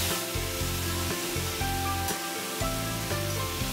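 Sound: brinjal being stirred and frying in a pan

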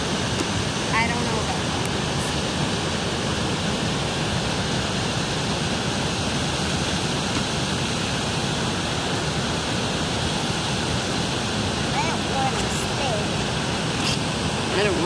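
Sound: Weber Falls waterfall in Tahoe National Forest

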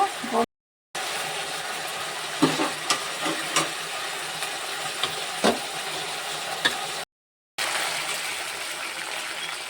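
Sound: spice water sizzling in hot oil in the pan

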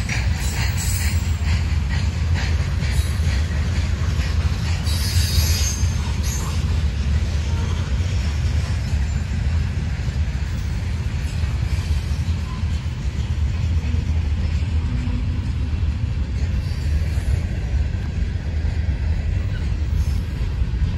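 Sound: freight train passing slowly, wheels squealing

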